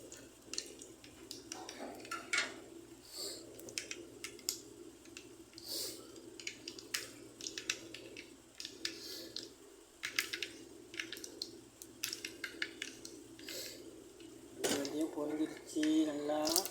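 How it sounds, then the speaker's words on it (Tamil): Mustard seeds and fenugreek spluttering in hot oil while tempering for mint chutney: a steady scatter of sharp crackles and pops with light clattering, growing into a denser, louder burst near the end. "கடுகு வெந்தயம் பொரியுது."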